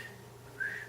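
A person whistles a short rising note in imitation of a shepherd's whistle used to direct sheepdogs on a New Zealand farm, faint and brief over steady room hum.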